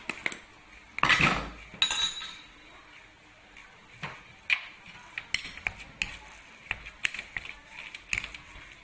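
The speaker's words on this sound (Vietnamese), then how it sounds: "Rồi giờ con trộn lên." Seasoned meat filling for stuffed bitter melon, salted and with a pinch of MSG, is mixed in a bowl: close, irregular clinks and scrapes of a utensil against the dish, with short bursts of louder stirring.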